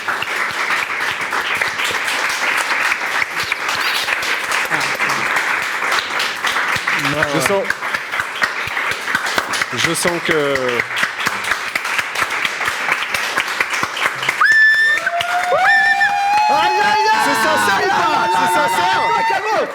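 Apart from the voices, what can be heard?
audience applause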